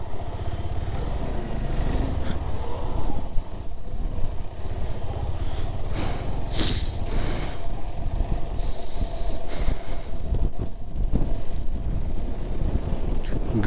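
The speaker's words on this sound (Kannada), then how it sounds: "ಸಖತ್ತು ಜೋರಾಗಿ ಹೊಡಿತಾ ಇದೆ ಗಾಳಿ." Strong wind buffeting the microphone on a ride through Ladakh, a steady broadband roar that holds for the whole stretch, with a few brief gusty bursts in the middle.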